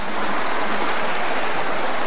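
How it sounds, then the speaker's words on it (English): A small waterfall beside a little bridge gives a steady, close rush of splashing water, a dense even hiss with no other sounds. "Let me just try and show you this little waterfall here if I can."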